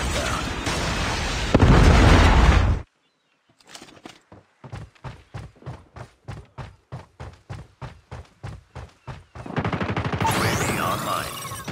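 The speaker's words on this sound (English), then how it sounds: "Friendly Predator missile inbound." A friendly Predator missile strike in a Call of Duty match lands as a loud, dense explosive blast. After a brief silence comes a rapid, evenly spaced series of sharp gunfire bursts, then another roaring, noisy eruption, all close and loud.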